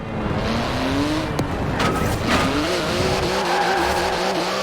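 A car with a 3.8-litre twin-turbo flat-six making 700 horsepower, driven in the Forza Horizon 4 racing game, roars loudly as its engine pitch rises and falls with gear changes and its tires squeal, with no talking.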